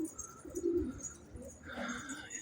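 Pigeons in a loft coo softly with low murmuring calls and faint rustling, steady throughout at moderate distance.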